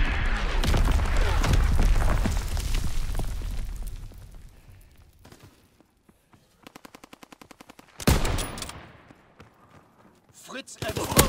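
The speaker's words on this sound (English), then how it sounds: "Sending mortar rounds." Mortar rounds and gunfire in the World War II shooter Call of Duty WWII: heavy explosions and rapid machine-gun bursts fill the opening, fading to a quieter stretch with a short mechanical rattle, then another sharp blast and scattered shots, with a voice speaking.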